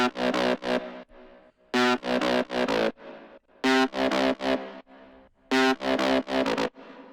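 A gritty, distorted plucked guitar-style lead synth from a Purity plugin plays short rhythmic phrases in repeating bursts, loud and upfront, with brief gaps between the phrases, in a moombahton EDM track.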